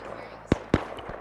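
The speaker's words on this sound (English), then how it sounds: "There was gunfire going on" Two sharp gunshots from a video game crack out about a quarter second apart, loud and close, over a low steady background with a voice faintly present.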